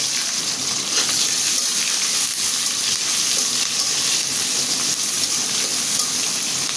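Onions and green chillies frying in oil left over from frying fish, a steady close sizzle with a continuous crackling hiss that holds at an even loudness throughout.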